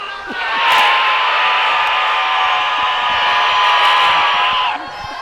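A home crowd at a girls' basketball game roars in a loud, sustained wall of cheering and shrill whoops that swells, holds steady for about four seconds, then drops off.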